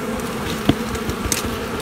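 Honeybees hum in a soft, steady buzz inside a hive box, with small knocks and clicks, close by and without talk.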